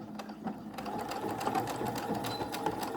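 A sewing machine runs steadily up close while backstitching a triple-layer washable fabric face mask, a continuous fast rhythmic whirring and needle ticking with no talk.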